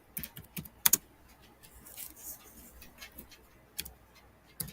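Computer keyboard typing, a few quick bursts of key clicks at the start, then sparse single taps separated by quiet pauses, close and fairly soft.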